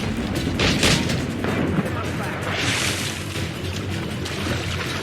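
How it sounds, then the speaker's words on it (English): Heavy ship mortar fire in the naval combat game Assassin's Creed Rogue, with deep booming blasts and rumbling water and ship noise, a loud burst near the start and another swell later, under faint voices. "Is that a ship mortar?"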